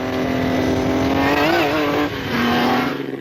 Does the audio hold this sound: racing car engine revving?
yes